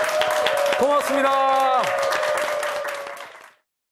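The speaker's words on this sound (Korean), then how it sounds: "감사의 박수 부탁드리겠습니다" A studio audience at a Korean morning talk show breaks into warm applause after a magician's lecture, clapping steadily for a few seconds before it fades out, with a host's voice briefly over it.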